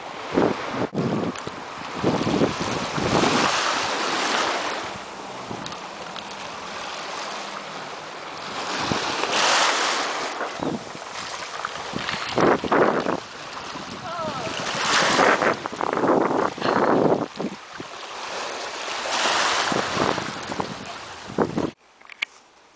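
On the coast near Koper, Slovenia, wind buffets the microphone while ocean surf rolls and crashes in repeated surges, loud and close, with no voices.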